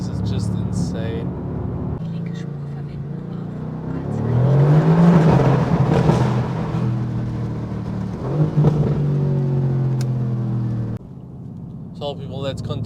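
A 585 hp Mercedes-AMG GT R accelerates on the Autobahn, its engine rising in pitch and building to a loud roar before easing off, with someone talking over it.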